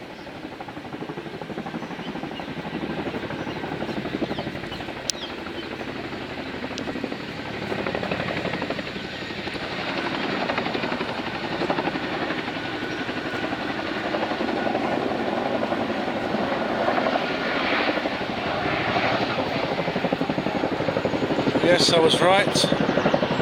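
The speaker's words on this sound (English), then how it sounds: "That sounds like a Chinook." A Chinook CH-47 helicopter passes overhead, its rotor drone steady and growing louder toward the end, with people talking briefly over it.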